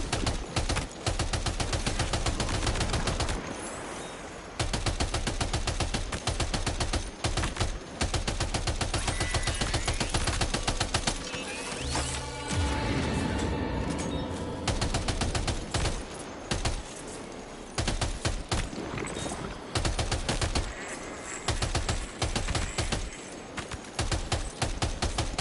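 Machine gun fire in the video game Death Stranding 2, long stretches of dense, rapid automatic bursts, loud and continuous with short gaps, mixed with other game noise and no talk.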